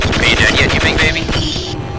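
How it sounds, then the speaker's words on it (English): A rocket launcher fires in Half-Life in a short, loud burst of blasts and booming impacts, close and dense, mixed with a voice over the action. "I'm just gonna keep launching rockets out there just to be safe, gigantic baby."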